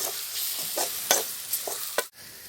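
Spice powders sauté in hot oil for a tomato rice and green peas gravy, a quiet sizzle broken by several quick, close spoon strokes scraping the pan before sudden silence.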